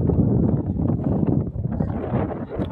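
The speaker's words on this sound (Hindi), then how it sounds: "भाई इतनी ठंडी हवा चल रही है" Cold wind blows near the Mumbai highway, a steady, loud, low roar of wind buffeting the microphone that rises and dips slightly throughout, with no clear voices.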